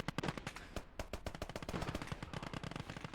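Panzer I and Panzer II tanks fire in a World War II battle in Gates of Hell Ostfront, giving rapid, loud bursts of machine-gun fire and gunshots that crackle continuously and densely without pause.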